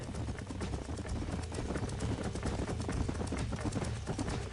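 Horse hooves pounding in the Western video game Red Dead Redemption, a fast, continuous galloping rhythm with low thuds and rustling, steady and fairly close.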